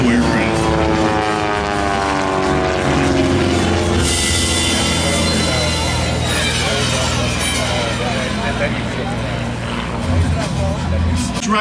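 A de Havilland Super Chipmunk aerobatic plane drones overhead at an airshow, its propeller engine loud and sustained with shifting pitch, while a voice talks over it.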